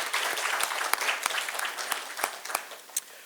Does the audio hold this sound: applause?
yes